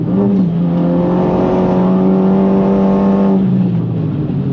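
A 430 hp Renault Megane R.S. runs at full throttle on the Nürburgring, its engine a loud, steady, rising in-car drone before it eases off near the end, with no voices over it.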